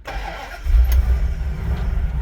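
A 1960s-style Dodge Coronet R/T convertible with a 426 Hemi V8 cranks and catches, then settles into a deep, loud rumbling idle.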